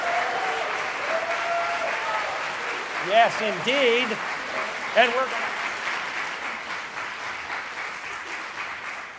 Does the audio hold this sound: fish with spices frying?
no